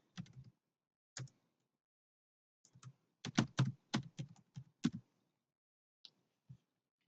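Someone types on a computer keyboard to fill in a green card renewal form. Short, irregular bursts of crisp keystrokes sound close and clear, with a quick flurry in the middle and silent pauses between, and no voices.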